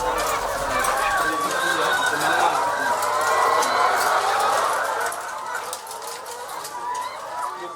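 Many laying hens cluck and chatter continuously in a school poultry farm's layer house, a dense close flock of overlapping calls, with someone speaking over them.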